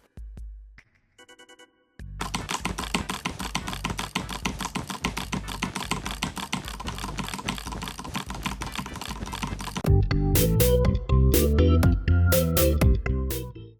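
Rapid computer keyboard typing and mouse clicking in a steady clatter of many close keystrokes, pausing briefly, then giving way to louder, heavier clicks and bursts near the end, with no voices.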